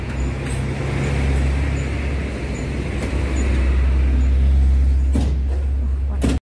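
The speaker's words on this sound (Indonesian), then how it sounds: "Ada bis perwisata yaitu Diva Trans" Diva Trans tour bus, a New Super High Deck Jetbus 3 with Adi Putra bodywork, idles with a steady low rumble at close range, joined by passing traffic noise and a couple of brief sharp bursts near the end.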